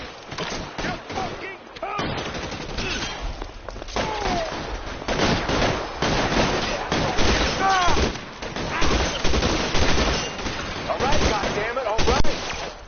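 Gunshots from the L.A. Noire video game crack out repeatedly in irregular volleys, single shots mixed with rapid bursts, loud and close, with voices talking in between and over them.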